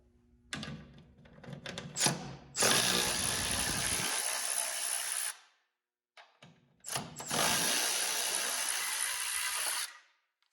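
A power ratchet spins suspension bolts loose in two long sustained bursts, each preceded by short clicks and clanks of tool handling, close and loud with no talk.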